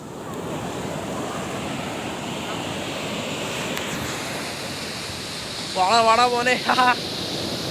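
Sea waves surge up Alappuzha beach in heavy rain, making a continuous roaring wash with wind buffeting the microphone; a man calls out briefly near the end.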